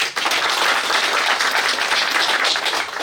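An audience claps and applauds for a speaker at a network marketing talk, a dense, steady burst of many hands clapping close and loud from start to end.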